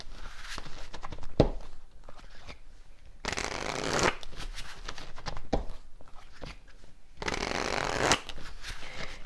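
A deck of tarot cards is shuffled close up in two long riffling bursts, with softer handling taps and flicks between them and a faint voice now and then.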